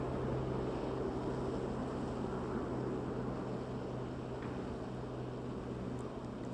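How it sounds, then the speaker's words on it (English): A helicopter flying low overhead, heard as a steady, continuous rotor and engine drone with a low pulsing hum that stays at an even level throughout, with no talking. "I can hear the helicopter, I just can't see it"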